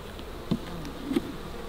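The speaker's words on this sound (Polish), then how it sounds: "Tutaj pszczółki zawsze czekają na dokarmianie." Bees buzz around a hive as they wait to be fed, a close, steady insect drone with two brief louder passes, and no voices.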